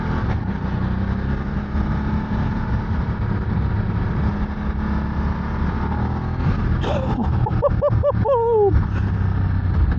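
A Voge DS900X motorcycle being ridden on narrow rural roads, its engine a steady loud drone with wind rumble, with a short burst of rising and falling whines near the end.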